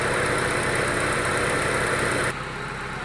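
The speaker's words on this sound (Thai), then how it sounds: "นี่ก็จะเป็นเสียงเครื่องยนต์ขนาดคอมทำงานนะคะ" A high-mileage three-door Honda Civic engine idles with its AC compressor running, giving a loud, steady hum and whine that drops abruptly to a quieter idle near the end as the air conditioning switches off.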